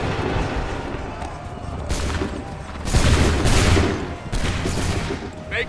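Repeated musket volleys in Assassin's Creed III ring out as loud, sustained bursts of massed gunfire, several waves rolling one after another with no clear gaps between them.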